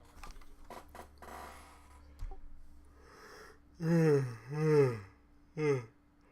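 A voiced yawn stretches out in two long drawn tones followed by a shorter one, near and fairly loud over a quiet, faintly rustling room.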